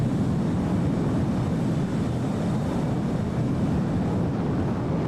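Jet engine roar and rushing wind noise from an F-18 Blue Angels jet flown in formation in the DCS flight simulator, a steady broad drone with no talking.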